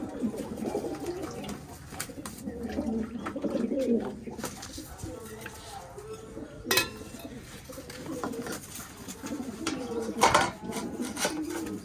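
Pigeons coo softly and repeatedly at close range in a loft, their low burbling calls recurring throughout, with a few sharp clatters and quiet background sounds in between.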